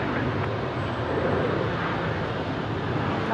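A Qantas airliner departs for Melbourne from Brisbane International, its engines a loud, broad continuous roar holding steady throughout.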